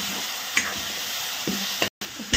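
Masala and chopped tomatoes fry and sizzle in a pan while a spoon stirs and scrapes, giving a few short scraping strokes over a steady, soft sizzle.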